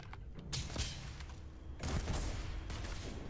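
A modified Lawgiver rifle firing in the video game Starfield: a couple of sharp, punchy shot bursts over a rumbling, mechanical game backdrop, no voices.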